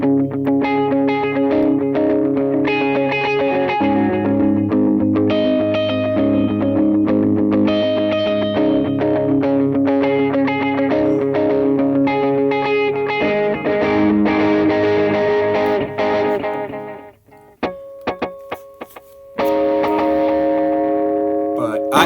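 Electric guitar through a Vox AC30 amp emulation and Boss DD-500 delay set to dotted eighths, playing chords and notes with each note rhythmically repeating, steady and prominent, then a brief pause and a sustained tone.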